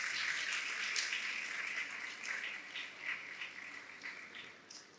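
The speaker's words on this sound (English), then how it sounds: "We are now applauding the students who have bagged multiple trophies under various categories" Audience applause at the Global Schools Awards 2024 ceremony at GIIS East Coast Campus, honouring students who won multiple trophies; a steady, dense wash of clapping holds throughout and slowly thins toward the end, with no speech.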